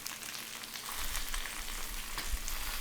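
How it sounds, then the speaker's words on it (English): Steaks sear in a hot frying pan, a steady, dense sizzle that grows slightly louder partway through and carries on unbroken with no talk. "I'm going to check my steaks to see how much of a sear they have"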